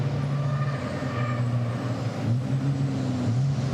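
Racing trucks brake hard at the Zolder circuit, with water jets cooling the brakes. A loud engine drone with shifting tones rolls on steadily, with no voices.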